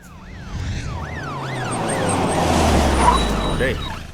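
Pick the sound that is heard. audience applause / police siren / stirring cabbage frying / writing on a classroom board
police siren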